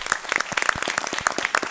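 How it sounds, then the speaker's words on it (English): Brief, lively applause from an audience at a county council swearing-in ceremony, dense clapping close by for under two seconds. "Please give her a round of applause"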